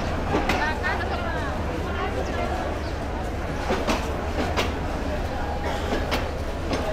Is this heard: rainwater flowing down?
no